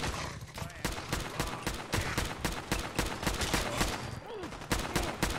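Repeated gunshots fired in the Fallout 4 video game, a dense stream of loud, sharp cracks in quick bursts, close and continuous, with occasional brief voices mixed in.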